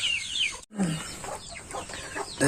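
Hens and young chicks on a farm, some of the chicks sick with bird pox, cluck and cheep with thin high peeping calls overlapping low clucks, nearby and continuous, briefly cut by a short gap.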